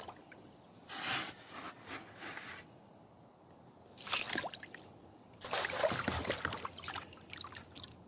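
Gravel is scooped into a tub while panning for gold, giving several quiet, separate bursts of scraping and rattling stones with pauses between them, close by and with no talking.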